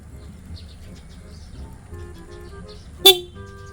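A single sharp whistle toot sounds close and loud, trailing off in a short steady tone over low background rumble and faint murmuring.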